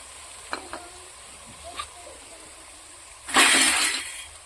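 Chopped carrots and beans for fried rice go into a hot pan: a few faint clinks and taps come first, then a sudden loud burst of sizzling that slowly fades.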